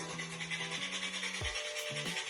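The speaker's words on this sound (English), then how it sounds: "we're going to grate another egg in, some of it" Something is grated into a pot of Jamaican peanut porridge, a quick scratchy rasping over a steady tonal hum in a home kitchen.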